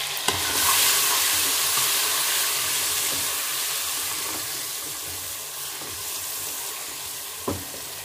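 Ginger garlic paste sizzles loudly in hot oil with fennel, cinnamon, black pepper and cloves for chicken pulao, a strong hiss that slowly fades while being stirred, with a few clinks of a utensil against the pan.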